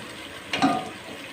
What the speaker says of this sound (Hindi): तो ये तकरीबन मैंने 5 गिलास भर भर के पानी के डाले हैं